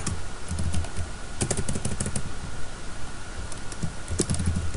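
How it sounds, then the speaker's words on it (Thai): Typing on a computer keyboard, a steady patter of close key clicks in quick irregular bursts over a constant background hiss, with no talking. "เลือกพิมพ์ใส่ว่า"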